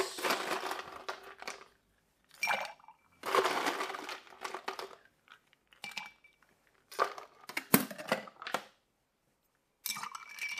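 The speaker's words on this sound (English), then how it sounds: "give it a little ice." Ice cubes dropped into a cocktail of lime, pineapple juice and honey syrup, giving several close, crisp bursts of clattering and clinking separated by brief pauses.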